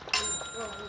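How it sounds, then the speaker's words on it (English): A doorbell in a comedy audio drama gives a single bright ring that fades into a short ringing tail, quiet and close. "there's a doorbell. Press that."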